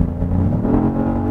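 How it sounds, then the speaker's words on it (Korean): A Genesis GV80 engine roars close by under full throttle in sport mode, its pitch climbing steadily as it accelerates hard from low to high speed. "저속에서 고속으로 풀악셀!"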